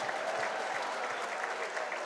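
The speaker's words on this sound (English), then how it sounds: "And you could say the crowd are getting into it." A darts crowd at the WDF Lakeside World Darts Championship semi-finals applauds a 171 score, with dense, steady clapping from a large audience that holds at an even level for the whole stretch.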